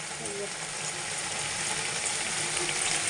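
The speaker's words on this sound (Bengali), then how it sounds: "এই যে এখানে আমার আলু করলা ভাজা বসিয়ে দিয়েছি" Continuous, close sizzling of potato and bitter gourd frying in hot oil, a steady crackling hiss with no other sounds.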